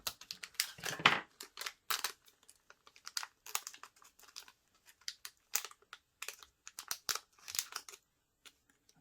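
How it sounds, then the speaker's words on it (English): A plastic wrapper for a DCC decoder for a 00 gauge model locomotive is sliced with a craft knife, giving close, quiet crinkling and scraping in irregular short bursts with pauses between them. "Just carefully cut it with the craft knife."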